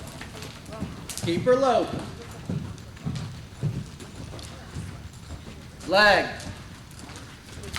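A mare named Naughty lopes around an arena, her hoofbeats a soft, rhythmic clip-clop under a trainer's coaching voice calling out to the rider.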